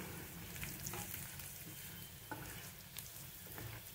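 Fried onion stirred with red chili powder in a frying pan: a steady sizzle with a few sharp scrapes of the spoon, heard up close and without speech.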